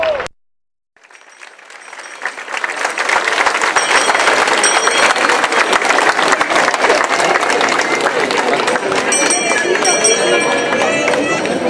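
Sustained crowd applause during a religious procession, the lowering of the Señor de la Salud Christ statue, building from silence into dense continuous clapping that stays loud, with voices mixed in.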